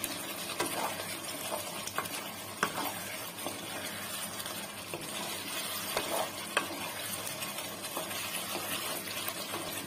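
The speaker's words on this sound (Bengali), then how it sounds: "তারপরে একটু ভালো করে নাড়াচাড়া করে নিতে হবে" Chicken kosha with garam masala is stirred in a pan, a steady close scraping and soft sizzle with irregular spatula clicks that continue throughout.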